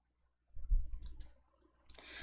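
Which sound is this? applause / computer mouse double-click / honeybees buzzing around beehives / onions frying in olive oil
computer mouse double-click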